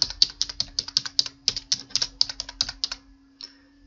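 Fast typing on a computer keyboard, close and crisp: about three seconds of brisk, steady keystrokes with a low electrical hum underneath, then a pause and one last faint tap, with no voices.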